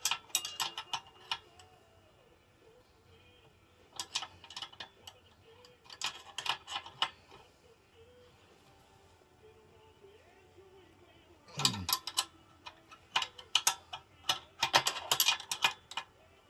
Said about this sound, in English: we're gonna tighten up under here on that other bolt